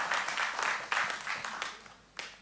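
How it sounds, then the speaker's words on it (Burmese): Faint, scattered audience clapping greets a guitarist at an interview event, with loose rhythmic bursts of hand claps that swell and fade over a quiet background. "လက်ခုပ်တီးပြီးကြိုးဆိုကြရအောင်"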